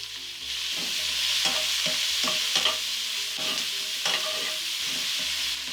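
Thinly sliced white onion, seasoned with salt and pepper, sizzles steadily in a pan on the stove, with scattered scraping clicks of a utensil stirring it through the constant frying hiss.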